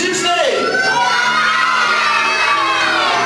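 A crowd of children at a carnival ball shouts their names all at once as loudly as they can, a dense, loud burst of overlapping voices that holds for several seconds.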